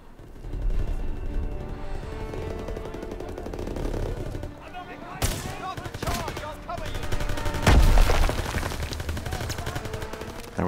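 Gunfire from a gun in the Call of Duty WW2 campaign, with bursts of rapid shots and sharp loud cracks around the middle and later, set against game action and a voice talking.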